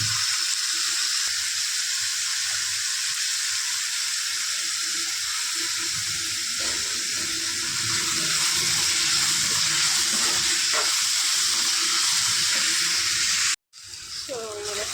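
Tomatoes fry with salt in a pan, giving a steady broad sizzle throughout, with a brief break near the end; a quiet voice talks over the cooking.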